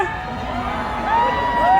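A large audience at a celebrity event with RLC Residences clappers cheers, shouts and whoops together in a continuous roar, with a voice over a loudspeaker carrying above the noise.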